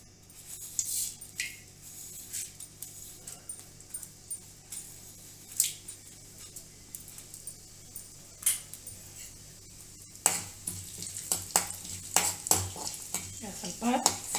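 Cumin and mustard seeds spluttering in one or two spoons of hot oil on a stove, sharp scattered pops and crackles coming close in irregular bursts, denser toward the end, with faint utensil clatter.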